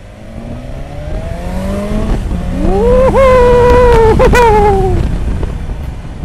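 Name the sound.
BMW S1000 XR motorcycle engine revving to 5000 rpm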